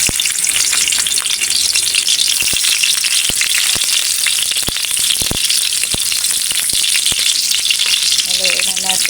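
Garlic frying in hot oil in a kawali, a loud, dense, continuous crackling sizzle with sharp pops and spatters throughout, close up and without speech.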